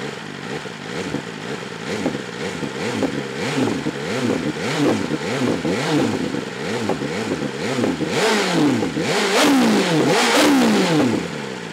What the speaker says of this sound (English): I'm going to go ahead and give you guys a couple revs here